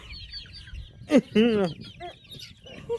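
Chickens cluck close by, with a few sharp squawks and a brief rising call in the middle, over a quiet background with scattered soft clucks before and after.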